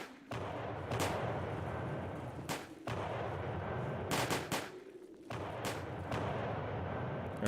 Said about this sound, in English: Artillery is shooting.